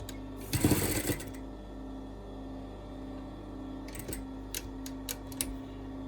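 A sewing machine stitches fabric ears into a seam, giving one short, loud, fast burst of needle chatter, then several isolated mechanical clicks and ticks nearby against a quiet hum.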